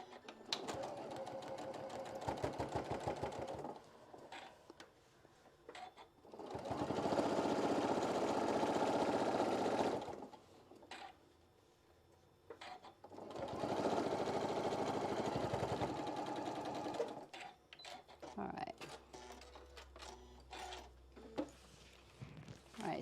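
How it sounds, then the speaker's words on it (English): A sewing machine top stitching across an apron hem runs in two long, steady bursts of several seconds each, separated by quieter pauses with softer handling sounds and brief talk. "we're just going to top stitch all the way across"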